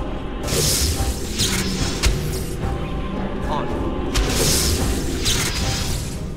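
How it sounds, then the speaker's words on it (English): A fire spell attack in the fantasy video game Dragon Age lands as dense, roaring bursts over a constant rumble of game noise, with someone talking through it. "So we will attack it with bolt. And we'll throw some fire at it."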